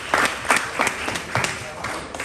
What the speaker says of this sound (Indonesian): Aplaus dulu untuk Cak Faisal